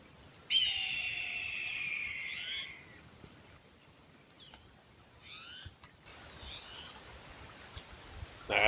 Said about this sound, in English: Eagle up in a tree like that, calling out like that.